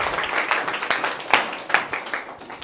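A classroom of students claps for a classmate in a government school, a quick burst of uneven, close handclaps that rises and then trails off over a couple of seconds.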